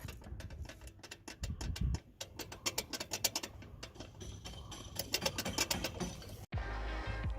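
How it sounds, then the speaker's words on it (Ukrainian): Fast metallic clicking and rattling in irregular bursts from a loose turbo wastegate flap on a BMW F30 328xi, close and fairly quiet, ending in a sudden cut to a dull rushing noise. "розшлапується заслонка вестгейту, турбіни, і з'являється характерний такий такий звук металевого стука"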